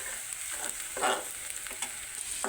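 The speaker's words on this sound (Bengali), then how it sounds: "এগুলোকে ভেজে নিচ্ছি তেল দিয়ে পেঁয়াজটা ব্রাউনি না হওয়া পর্যন্ত ভাজতে থাকবো" Onions and new potatoes fry in oil until browning, giving a steady close sizzle broken by a few soft scraping stirs.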